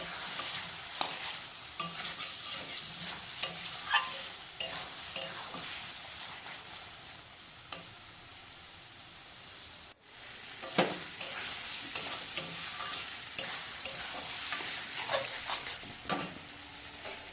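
Boal fish curry with potatoes sautéing in a pan, a continuous soft sizzle broken by scraping stirs and spatula clicks, with a brief pause midway before the frying resumes more brightly.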